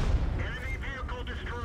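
A tank cannon fires in the video game World of Tanks, a deep heavy boom that rolls on throughout, with a game voice speaking over it.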